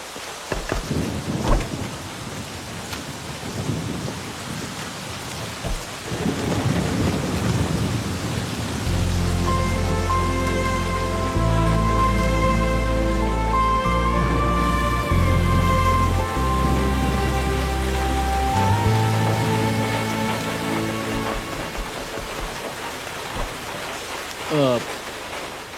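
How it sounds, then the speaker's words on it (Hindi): Heavy rain pours steadily in a night roadside scene, a constant wash of noise heard under music and scattered dialogue, with faint thunder rumbling early on. "बहुत बारिश हो रही है।"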